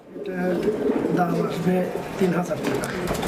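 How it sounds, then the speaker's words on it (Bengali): Fancy pigeons on a farm coo steadily in low, rolling calls close by, with people talking over them. "কবুতর খুবই ভয় পাচ্ছে"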